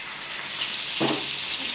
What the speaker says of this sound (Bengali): কালো জিরে ফোড়ন দিয়ে দিয়েছি